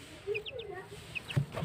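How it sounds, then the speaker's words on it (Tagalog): A chicken clucking nearby: several short, soft clucks and murmurs in quick succession against a quiet outdoor background, with a brief thump near the end. "May kasama silang manok."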